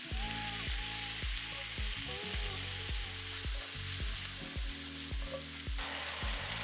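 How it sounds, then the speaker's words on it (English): Brussels sprouts sizzle loudly in rendered fat with toasted spices, a dense continuous frying hiss close by, overlaid with a string of repeated knocks as they settle in the pan; no voices. "Now with the fat rendered and the spices nicely cooked, you can add in your Brussels sprouts."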